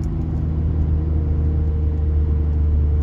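Infiniti Q60 engine with an AAM exhaust mod revving, a dense, steady low rumble and droning hum held close and loud throughout, with no voices.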